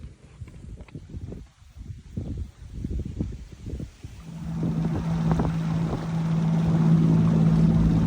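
A small motorboat on a lake, its engine starting up partway through and then droning steadily and fairly close, after a stretch of footsteps and rustling.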